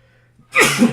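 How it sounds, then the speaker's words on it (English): One loud, close sneeze breaks a near-silent moment, a sharp burst of breath. "I'm going to sneeze"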